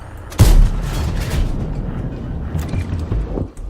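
A T34 tank cannon fires in World of Tanks, one sudden loud boom followed by a rumbling tail and background battle noise.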